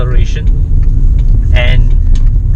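A 2019 Proton Persona's engine pulls under acceleration while driving, a steady low rumble of engine and road noise running throughout, with brief higher hiss bursts and a voice speaking over it.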